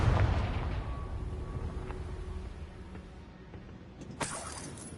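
Confringo fire spell in Hogwarts Legacy, a deep booming explosion at the start that decays into a rumbling tail, followed by a quieter bright burst near the end.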